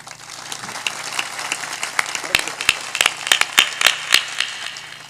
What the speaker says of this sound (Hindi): मेरी इच्छा है थोड़ा सा ताली जोरदार बजाओ।